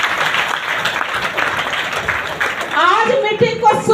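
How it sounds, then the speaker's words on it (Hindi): Audience at a DXN meeting in Prayagraj bursts into loud, steady clapping that fills the room for a few seconds before a voice begins speaking over it. "एक जोरदार ताली होना चाहिए सभी को।"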